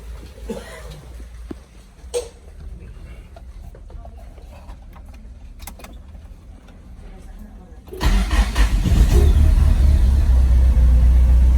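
A 2021 Starquest cranks over and catches after about eight seconds of quieter handling noise, then settles into a loud, steady idle that fills the rest of the moment.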